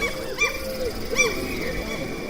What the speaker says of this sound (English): All the birds.